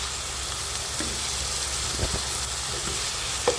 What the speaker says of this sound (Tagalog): Pinrito ko muna yung chicken breast at saka yung sikyam.